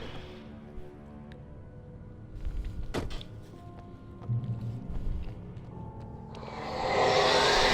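Someone gets out of a car in the video game Alan Wake, heard as sharp door clicks and thuds over a low hum, followed by a swelling rush of noise at the end.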